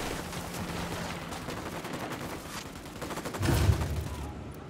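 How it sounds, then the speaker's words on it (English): Gunfire rattles in the video game Tom Clancy's Ghost Recon Wildlands, a continuous spread of distant-sounding shots and bursts at low level, with a heavier thud near the end. "Shooting these fuckers."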